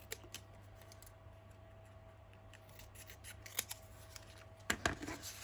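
Scissors snipping a paper piece for a junk journal page, a few quiet close snips spaced apart, ending in a quicker cluster of crisp cuts, in an otherwise quiet room with a faint steady hum.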